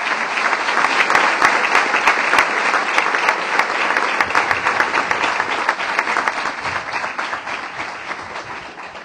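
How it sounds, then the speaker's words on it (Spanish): A community gathering applauds Father Antún Ramos, and the loud, sustained clapping from many hands fades gradually over several seconds. "un aplauso para el padre Antún Ramos"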